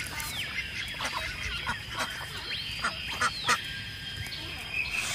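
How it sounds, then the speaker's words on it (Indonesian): Duck calls out in nature, a string of nasal honking quacks spread across a few seconds over a steady outdoor background, moderately close and without speech. "Widih, ini bebek teman-teman."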